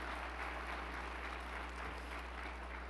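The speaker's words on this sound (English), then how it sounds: "give them a round of applause" Faint, distant applause from a gala audience honoring students, a thin, even patter of clapping over a steady low hum.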